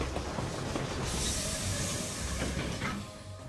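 Trains loading in the Panzer Corps 2 strategy video game, heard as a steady rail rumble with hissing steam and faint clickety-clack, moderately loud and continuous, with no talk.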